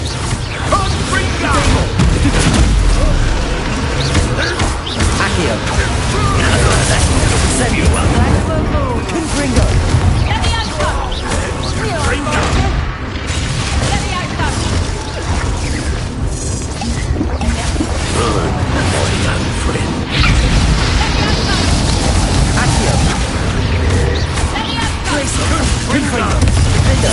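Repeated Confringo fire-blast spells in Hogwarts Legacy burst and boom amid crashing debris, dense and loud throughout, with a voice calling out spells over the chaos.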